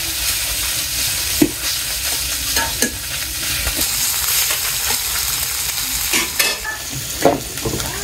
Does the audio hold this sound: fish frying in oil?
yes